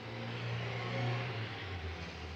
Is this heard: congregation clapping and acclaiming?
no